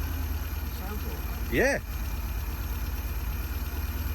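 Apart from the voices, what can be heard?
old car engine starting and idling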